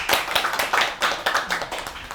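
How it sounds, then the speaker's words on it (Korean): A small lecture audience of students at a Korean university seminar claps to welcome a visiting professor, with irregular overlapping hand claps at close range forming a lively, uneven patter throughout. "박수로 맞아주세요."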